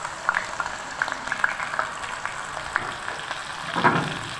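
Chopped onions frying in hot mustard oil, giving a steady, close sizzle with small crackles and pops throughout.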